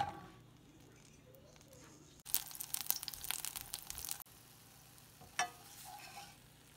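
Shishito peppers fry in a little oil with salt, a loud sizzling burst for about two seconds before dropping back to a faint hiss, with a brief clatter later.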